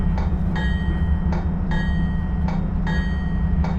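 Northeast Regional passenger train in a train simulator game, running between New York City and Washington DC: a steady rolling rumble with regular metallic clacks from the wheels, continuous and without talk.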